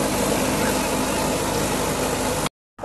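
A Mahindra 585 tractor engine runs in a field where a standing urad crop is being turned into green manure. It makes a loud, steady, close-up rumbling drone that cuts off abruptly near the end.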